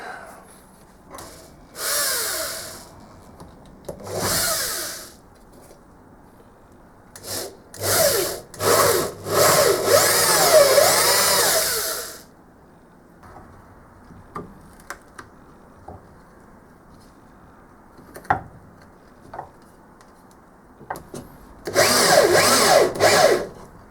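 A metal-cutting hole saw on a power drill grinds through wood for a guitar headstock in loud, repeated bursts of whining, rasping cutting separated by pauses, close and alone.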